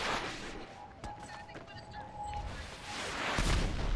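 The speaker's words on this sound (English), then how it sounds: "That's what those explosions were." Rocket launcher explosions in GTA, the video game, with booming blasts at the start and again near the end over a steady rumbling background.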